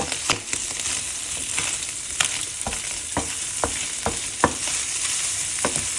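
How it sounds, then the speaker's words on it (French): Bacon lardons sizzle steadily in a hot pan for rice lardonnaise, with a continuous loud fry punctuated by sharp scrapes and taps as a utensil stirs them, close and uninterrupted. "Voilà, là les lardons commencent à être bien cuits là."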